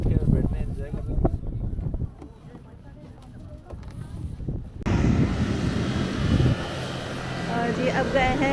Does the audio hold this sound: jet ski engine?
yes